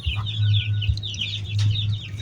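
Chickens cluck repeatedly in a farm pen where sick chicks of a fighting-cock breed are kept, with steady low clucking alongside higher bird calls, close and moderately loud.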